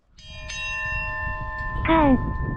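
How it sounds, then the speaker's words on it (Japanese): Bell rung at a lighthouse on a Japanese cape, one clear struck tone with a long ringing decay, then a second strike near the end, outdoors with faint background noise. "鐘がありますね。"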